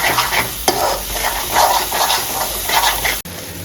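Salmon fish curry with garlic paste being stirred in a sizzling pan, a steady scraping stir over continuous frying hiss, with one sharp clink of the utensil and a brief drop-out near the end.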